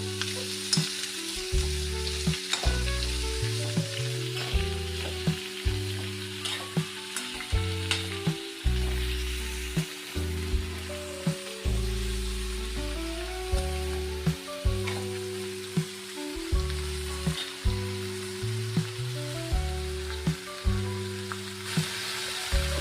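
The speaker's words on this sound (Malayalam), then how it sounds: "നന്നായിട്ടൊന്ന് ഇളക്കി കൊടുക്കാം." Potato curry fries in a pan while being stirred hard, with a continuous sizzle broken by rhythmic scraping and clunking strokes of the spoon against the pan, close and steady, no talking.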